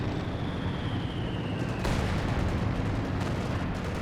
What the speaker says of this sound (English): I love this mortar.